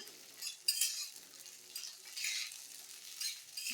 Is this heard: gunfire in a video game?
no